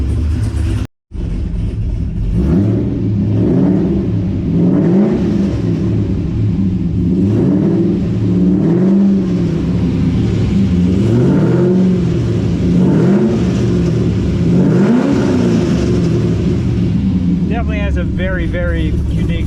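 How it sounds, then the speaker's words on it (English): A Chevrolet C6 Corvette V8 fitted with a Texas Speed cam, not yet tuned, revs repeatedly in rising and falling swells over a choppy idle, loud and near, with voices briefly under it. "Go ahead and go inside and give it a couple revs."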